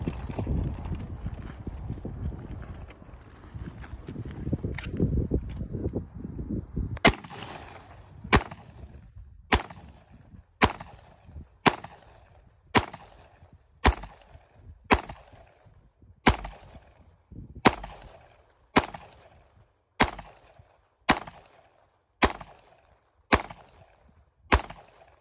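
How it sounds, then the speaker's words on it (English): Seventeen 9mm rounds fired into a bulletproof briefcase armor panel: after a rumbling start, a long series of sharp, evenly spaced shots rings out one at a time at a fairly regular pace, each crack distinct and moderately distant. "Right now we're gonna try 17 rounds of 9mm throughout the panel and make sure that it can stop all of that."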